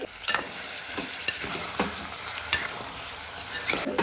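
Potatoes tempered in hot oil sizzle in a pan while a spoon scrapes and stirs them in regular strokes. The clear clicks and scrapes sit over a steady fry, close and without talk.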